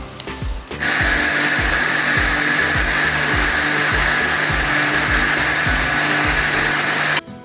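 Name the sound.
grinder blending onion paste for butter chicken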